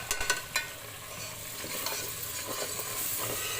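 Spice masala for fish curry fries with a soft, steady hiss; a few light stirring taps open it before the sizzle settles, and no one speaks.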